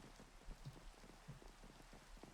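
Steady rain falling in a video game, a soft continuous patter with a few brief louder drops, faint and without speech.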